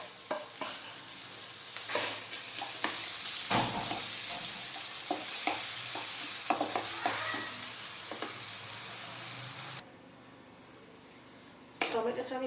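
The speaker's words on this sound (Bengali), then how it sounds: "টমেটোটা দিয়ে দেব।" Tomatoes frying with ginger-garlic paste and onion for a methi matar malai dish, a close steady sizzle with spatula scrapes and clanks, a voice talking over it, the sizzle dropping near the end.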